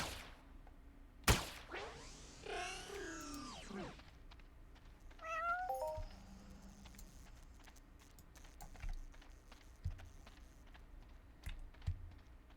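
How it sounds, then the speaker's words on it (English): A pet cat companion in a fantasy video game meows several times in quick succession, a rising, wavering cry that stands out clearly over quiet game ambience, scattered clicks and tapping. "My little kitty cat following me."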